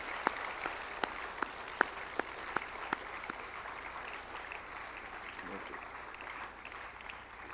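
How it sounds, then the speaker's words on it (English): Audience applause at a talk, a continuous bed of clapping with a few sharp individual claps standing out near the start, moderately faint and steady throughout. "A big round of applause for that."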